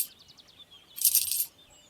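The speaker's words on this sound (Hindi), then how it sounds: "शिक्षक और शिष्य ने उन जूतों में कुछ सिक्के डाले" Cartoon coin effect for coins dropped into a pair of shoes: quick bright metallic tinkles at the start, then a loud shimmering jingle lasting about half a second, alone.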